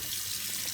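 Running water from a tap splashes steadily over hands being rinsed at a sink, a continuous close hiss with no pauses.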